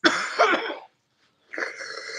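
A burst of harsh coughing up close, then a short silence, followed by another rough, sustained cough-like rasp.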